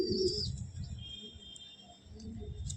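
Red Giribaj pigeon at a home loft giving a few soft, low coos that fade in and out, with faint chirping and light background noise around them.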